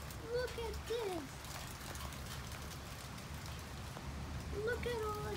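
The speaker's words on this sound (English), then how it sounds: "Look at all the rain." Steady heavy rain from a storm hisses over everything while a person speaks excitedly in bursts.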